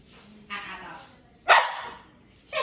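A talking macaw parrot imitates a dog's barking with several short, close, voice-like barks and yips, the loudest in the middle, in a quiet indoor room.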